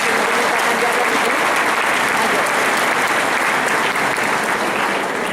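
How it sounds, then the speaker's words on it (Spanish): A church congregation at a Catholic preacher's talk gives itself a round of loud, dense applause. The clapping is close and sustained throughout, with faint crowd murmur beneath it. "dense un aplauso para ustedes mismos"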